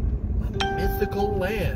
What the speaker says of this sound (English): that's the sound of getting a Facebook notification in the middle of your video.